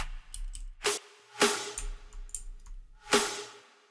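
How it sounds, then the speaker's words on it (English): Three sharp clap hits, used as the top layer of a layered future bass snare, ring out alone at an uneven spacing, each a bright crack followed by quieter crackly tails and a low hum between them. "And then the last one is a clap"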